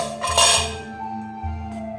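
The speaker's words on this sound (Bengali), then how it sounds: "এখন এবার ঢাকনাটা খুলছি" A metal lid lifted off a cooking pot while making palm-fruit malpua, giving a short clatter and clink of metal cookware close by, with a steady low kitchen hum underneath and no talk.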